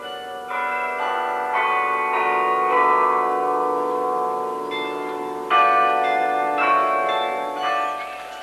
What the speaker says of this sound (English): from Aspen Island, the bells of the striking carillon ring out across the city